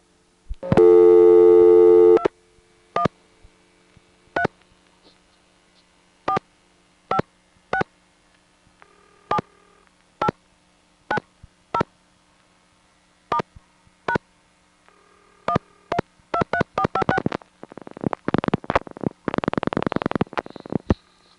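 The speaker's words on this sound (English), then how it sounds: "Ben dials a 213 number, that's a long-distance area code in California, without a 1 first" A telephone call on a 1977 step-by-step exchange in Monroe, New York, dials a 213 long-distance area code without a leading 1. A long tone is followed by a series of clicking dial pulses, then rapid tone bursts from the intercept signal near the end.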